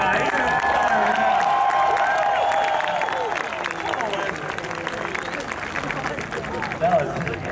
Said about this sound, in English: let's give a round of applause for this guy